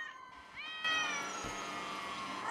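A game cat in GTA 5 at Halloween gives a drawn-out meow over a loud, steady background wash, the cry sliding upward before settling into the ambient noise.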